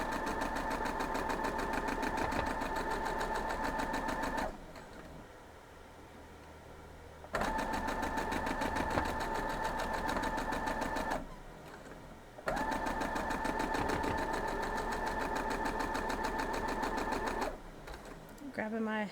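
A sewing machine runs in three long continuous bursts stitching quilt block scraps together, its steady whirring motor close and loud, with brief pauses between runs.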